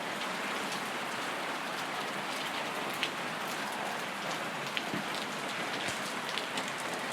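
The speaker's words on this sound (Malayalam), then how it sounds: "മഴയുണ്ട്, അതുകൊണ്ടാണ്." Rain falls steadily on nearby surfaces, a dense, even hiss with scattered louder drops, continuous and fairly loud throughout with no voices.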